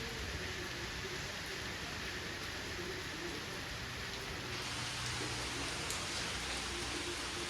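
Steady rain pours down in a continuous hiss, with drops pattering on surfaces and faint bird calls behind it.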